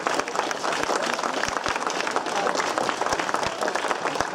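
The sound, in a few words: audience applause at cycling prize ceremony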